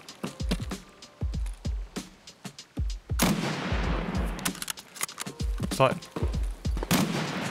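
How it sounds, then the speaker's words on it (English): Mosin rifle shots and other gunfire in a shooter video game ring out as sharp, repeated cracks with echoing tails, some near and some distant, while a player talks over them. "I've just been shot at by Mosin."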